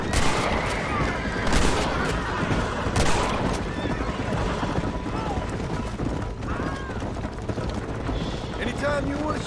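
Enemy rifles and revolvers fire in Red Dead Redemption, repeated sharp cracks scattered through the stretch, loudest early on, over busy game noise with someone talking and a horse whinnying.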